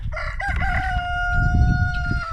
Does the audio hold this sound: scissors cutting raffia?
no